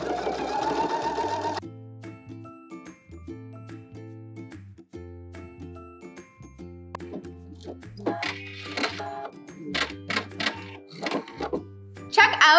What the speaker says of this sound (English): when you're stitching, make sure that your stitch is going to be over here on the left-hand side at that fold